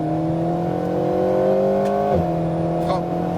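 An Alpine A110R race car engine revs hard on a circuit, climbing in pitch with a brief gear-change dip before pulling again, loud and close as from inside the cabin, with a voice speaking over it.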